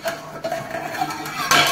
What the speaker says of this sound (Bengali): এবার আমি ঢাকনাটা খুলবো